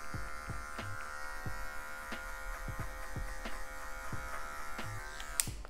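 An electric hair clipper buzzes steadily while trimming the lower hairline of afro hair for a mid fade. A close, continuous motor hum is broken by short repeated strokes and light ticks, and there is no speech.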